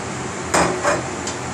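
Spoon stirring courgettes in a cooking pot for osso buco, two or three short clinking scrapes against the pot, close and fairly loud.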